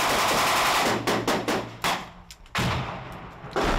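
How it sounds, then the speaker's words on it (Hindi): Battlefield gunfire and artillery around Bakhmut in the Russia–Ukraine war: bursts of automatic fire and sharp shots crack repeatedly over a loud rumbling background, with heavy thuds and no speech. "एक तरफ रूस का आर्टिलरी अटैक, दूसरी तरफ एमएलआरएस से अटैक"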